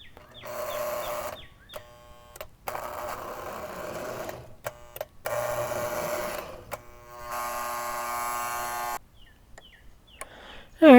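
A Lionel Budd RDC1 #400 model train runs in several bursts, its electric motor giving a steady whirring hum that starts and stops with short silent gaps and a louder clunk at the end.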